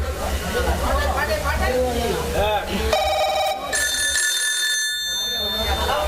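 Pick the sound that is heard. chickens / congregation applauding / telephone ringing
telephone ringing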